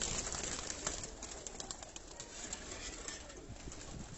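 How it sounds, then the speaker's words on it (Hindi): Breeder pigeons coo in a loft, a steady murmur of many birds close by with soft overlapping calls throughout and occasional wing flutters. "ये सब ब्रीडर कबूतर"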